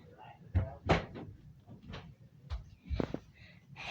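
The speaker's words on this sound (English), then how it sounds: "I need to go shut my door" A bedroom door is shut with a few sharp knocks and thuds, the latch clicking, heard close and fairly quiet amid faint rustling.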